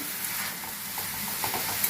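Steady sizzling in a pan with soft scraping as potato and pointed gourd pieces are stirred with tempering spices, continuous and close, with no voices.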